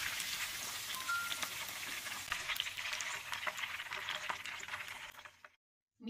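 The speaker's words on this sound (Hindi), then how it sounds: "ऑयल गर्म हो चुका है, मीट बॉल को एक एक करके हम ऑयल में डालते हैं।" Meatballs fry in hot oil over a medium flame, giving a steady, close crackling sizzle that runs unbroken and then cuts off near the end.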